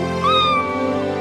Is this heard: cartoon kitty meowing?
yes